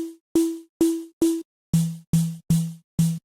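A Serum synth patch blending a sine wave with organic noise under an LFO, played as eight separate short notes, four on a higher pitch then four lower, each with a sharp onset and a swelling, fading tail, alone.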